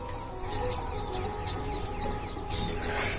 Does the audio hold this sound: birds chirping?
yes